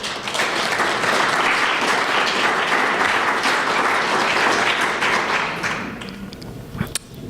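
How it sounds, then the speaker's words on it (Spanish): Loud, sustained applause from a conference audience fills most of the stretch, a dense wash of clapping that tapers off toward the end with a few scattered final claps. "para quien pido un fuerte aplauso."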